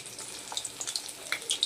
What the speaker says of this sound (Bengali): এই যে মাছটা আমার এক পিস ভাজা হয়ে গেছে, আর এক পিস হচ্ছে